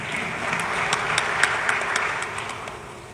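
Audience applause at a conference panel on future single windows, a dense, steady wash of clapping from many hands filling the room for a few seconds, fairly loud throughout.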